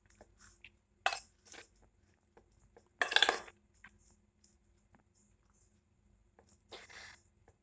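Paneer and Maggi momo filling being stirred in a bowl in a home kitchen, a few sparse spoon clinks and soft scraping taps separated by quiet pauses, close and fairly faint.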